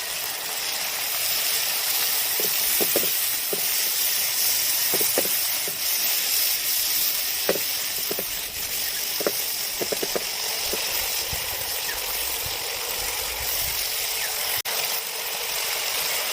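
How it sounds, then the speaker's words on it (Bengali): Masala for rohu fish kalia hisses loudly after a splash of water is added while it fries. A dense, continuous steamy sizzle is punctuated by occasional small clicks and spits. "আর একটু জল দিয়ে কষবো।"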